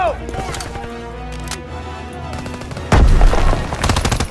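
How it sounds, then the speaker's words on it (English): Thompson submachine gun from Call of Duty WWII fires in loud rapid automatic bursts, starting as a sharp heavy barrage after a quieter stretch of game ambience, with further clattering shots near the end. "I love the Thompson."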